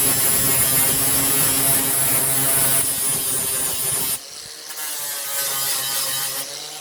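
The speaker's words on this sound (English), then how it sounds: "let's rip this mill scale off" An angle grinder strips mill scale from steel angle with a continuous, harsh, high grinding whine that runs for about four seconds, then drops in load and resumes more softly. It is close and loud, with no talking.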